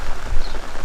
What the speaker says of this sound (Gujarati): આમ તો વરસાદ કેટલો આવે છે